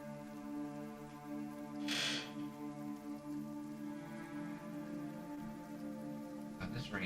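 A steady patter of normal rain, neither drizzle nor downpour, plays as a sound effect in a tabletop role-playing session, soft and even beneath a low hum, with a couple of brief louder swells.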